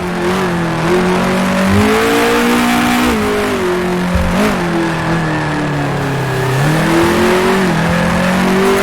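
A 1966 Formula One car in Grand Prix Legends, its engine note repeatedly dropping and rising as it heel-and-toe downshifts through the gears at the Dutch Grand Prix, loud and continuous from onboard.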